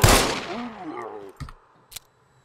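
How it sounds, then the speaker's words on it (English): Magnum pistol shots in the survival game Scum: a few sharp, isolated reports ring out after a fading voice, two short cracks spaced about half a second apart, loud and close. "this is my favorite pistol, the Magnum"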